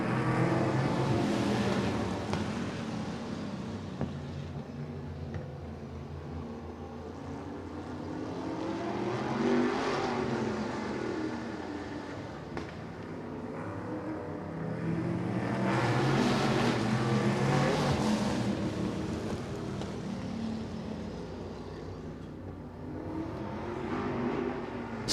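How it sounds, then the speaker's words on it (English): Two sprint cars and two offset super modifieds roar around a speedway oval, engines loud and continuous, swelling twice as the pack sweeps past nearby, with no talking. "I'm just going to let you listen right now to the rumble and the roar of 2 sprint cars and 2 offset super modifieds"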